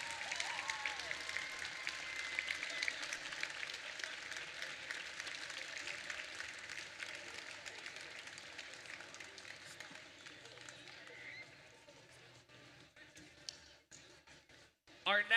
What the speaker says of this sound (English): One more round of applause for your Pacific Northwest SunDome champions.